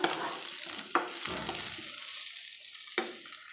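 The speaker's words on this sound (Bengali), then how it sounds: "আর এদিকে আমার ভাজা চলছে চপটা" Bread-crumbed chop frying in hot oil gives a steady, close crackling sizzle throughout, broken by a few sharp clatters of a spoon or pan, with no talking.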